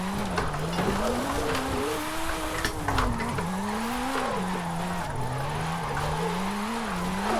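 Engine of a 300-horsepower wheel-spin drift build car in Forza Horizon 5, revving and wavering continuously as it slides through a corner, loud and steady throughout, with faint tire noise and occasional talk underneath.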